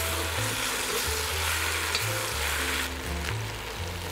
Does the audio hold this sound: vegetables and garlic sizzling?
yes